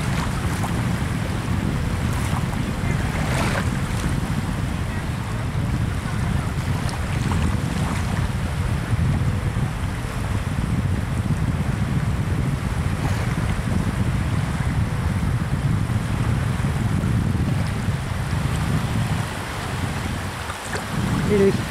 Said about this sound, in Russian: Легкие волны.